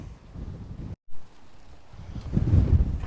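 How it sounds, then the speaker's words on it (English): Gusty wind buffets the microphone in uneven low rumbles, with a brief dropout near the start and a stronger gust toward the end. "It's just windy and blowing"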